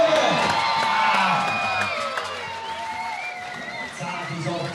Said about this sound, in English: What a crowd though. What a support.